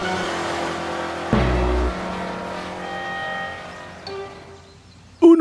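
A cartoon car roars off in a burst of revving engine, loud and brief, over a busy animated music bed with a sharp hit at the end; no one talks.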